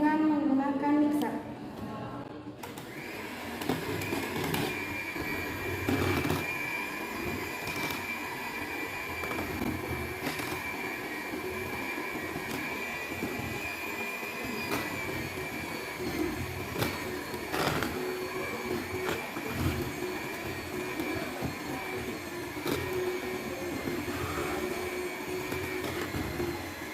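An electric mixer blends dish soap ingredients in a vocational school workshop, a steady motor whine running continuously from a few seconds in, with faint background voices.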